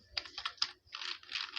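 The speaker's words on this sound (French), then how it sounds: "Nous appuyons encore sur la touche tabulation." Rapid keystrokes on a computer keyboard while entering data in an Excel spreadsheet, two close bursts of clicking separated by a brief pause, crisp and near with no talking.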